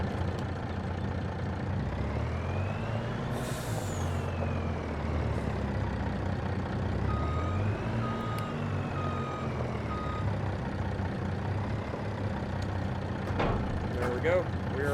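A heavy logging truck in a video game reverses to hook up a logging trailer, with its engine rumbling steadily throughout and beeps and brake hiss near the end, under game talk.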